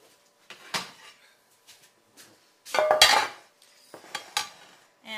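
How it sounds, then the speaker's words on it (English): A 9x13 baking pan is carried over and set down on a counter, giving several clanking metal knocks and rattles, close by, separated by quiet pauses. "Now we're going to bring over the 9x13 pan."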